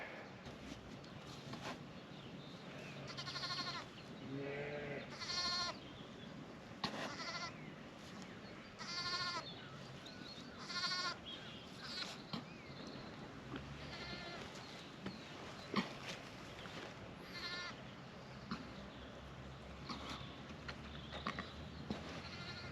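Suffolk Romney ewes bleating in a lambing shed, a string of short, fairly faint calls over steady background hum, some nearer and some farther off.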